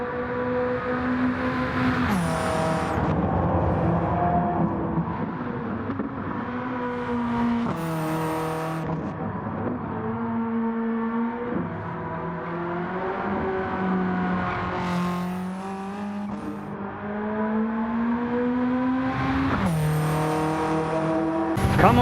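A Mitsubishi Lancer Evolution race car in Gran Turismo 7 screams around a track, its engine revving high and dropping sharply with each gear shift in a repeating pattern, loud and close with no talking.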